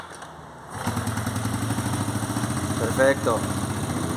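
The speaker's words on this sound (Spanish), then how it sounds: "Ahora la moto tendría que encender sin ningún problema." An Italika motorcycle engine, just serviced with fresh oil and a cleaned strainer, catches after a brief start attempt and settles into a steady, close idle with a rapid thumping rhythm; a voice speaks briefly over it.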